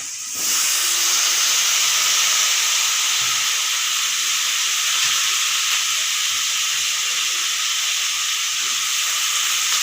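Cauliflower stalks and other vegetables fry in a hot pan, with a loud, even hiss of sizzling oil that starts abruptly and holds steady throughout, close up and with no talk.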